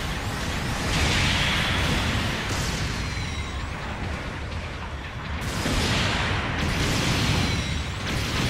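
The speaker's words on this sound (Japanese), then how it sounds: "砲撃が来るよ。" Artillery shells land in a video game battle, a dense, continuous rumble of booming blasts with whooshing surges rising and falling, loud and close throughout.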